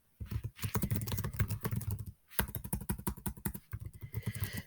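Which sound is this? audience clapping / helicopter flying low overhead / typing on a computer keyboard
typing on a computer keyboard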